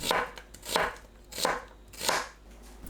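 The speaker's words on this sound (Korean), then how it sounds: "양파를 채 썰어주세요" A knife cuts an onion into thin strips on a cutting board with four crisp, evenly spaced chops, close and clear, with no voices.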